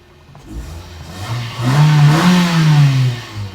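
A 2013 Mazda 2 1.5-litre car engine revs up from idle, rising in pitch and holding a loud throaty roar before easing slightly.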